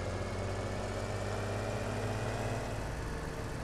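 A tractor engine idles steadily in Farming Simulator 17, a continuous low rumbling drone with no change in pitch and no voices.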